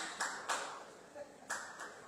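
A group in a festival press conference room claps out a three-count, with sharp, faint, separate claps at uneven spacing in a quiet room.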